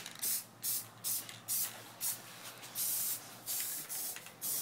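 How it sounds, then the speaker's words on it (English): Rapid bursts of aerosol spray paint hiss as red paint coats the brake calipers of a 1969 Mustang, short repeated sprays separated by brief pauses, close up. "This is gonna take a whole can of red paint."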